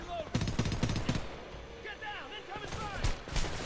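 Rapid bursts of assault rifle fire in the shooter game Homefront, a loud rattling volley early on followed by scattered shots, explosions and game effects, with someone talking over parts of it.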